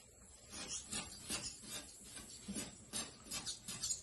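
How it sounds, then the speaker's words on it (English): A new razor blade scrapes decal material on a 1983 Ford Ranger, giving quiet, rhythmic rasping strokes repeated roughly every half second, close and soft. "I'm going to go ahead and take a new razor blade. I'm going to scrape it with this."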